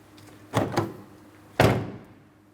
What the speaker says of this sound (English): I always like to open and close the door just to confirm that it does properly latch.